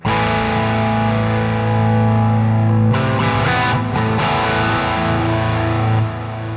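Sustained electric guitar chords through a Sonicake Pocket Master with a slow, mild pitch modulation effect, gently wavering, thick and steady, a brief change of chord midway.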